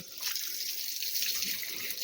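Water from a garden hose pours steadily into home plant beds, a continuous, moderately loud splashing rush with no pauses and no voices.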